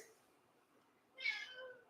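A cat gives a single short, fairly faint meow close by in a quiet kitchen, rising briefly and then trailing off.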